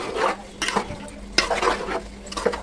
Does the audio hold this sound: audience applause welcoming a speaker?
no